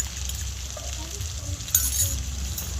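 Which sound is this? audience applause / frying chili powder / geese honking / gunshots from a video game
frying chili powder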